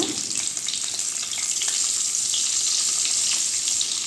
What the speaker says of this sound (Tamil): எண்ணெய் சூடாயிடுச்சுங்க இப்போ முட்டையை சேர்த்துக்கலாம்